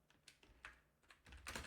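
Keystrokes on a computer keyboard, a quick run of crisp clicks in uneven bursts, growing denser and louder toward the end, close up in a quiet room.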